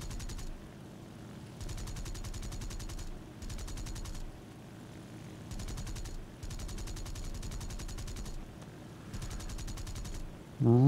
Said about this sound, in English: Riddled him with cannon fire.